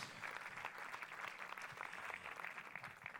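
An audience applauds at the closing ceremony of the Saint-Jean-de-Luz International Film Festival, a faint, steady wash of many hands clapping from a distance without a break.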